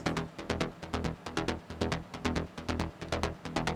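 Unshaped synth bassline from a trance bootleg remix, pulsing in a fast, even throbbing rhythm of punchy repeated notes, fairly quiet and with no voices.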